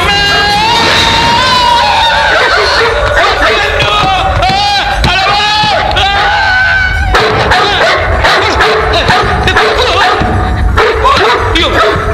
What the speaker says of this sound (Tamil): நாய் வந்திருக்கு வீட்டுக்குள்ள